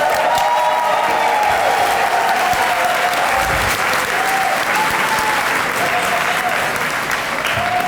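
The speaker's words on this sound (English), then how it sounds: "applause is truly in order" A large audience at an NAACP awards event claps continuously, a dense and loud roar of applause that stays even throughout, with faint voices threaded underneath.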